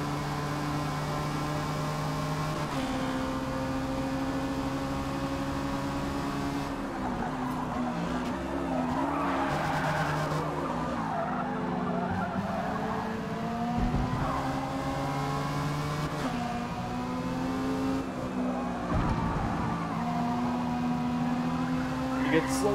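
Race cars in a D Class dirt track race drone loudly and continuously, with engines rising and falling as they jostle close together, occasional tire scrubbing, and a voice talking over the racket.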